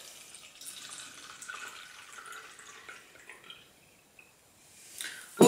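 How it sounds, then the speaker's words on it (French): Water trickling into a small spray bottle already holding citrus vinegar for a homemade all-purpose cleaner, a soft thin flow with faint dripping, close and quiet, ending in a brief louder clatter. "Auquel j'ajoute tout simplement de l'eau, 2 tiers d'eau."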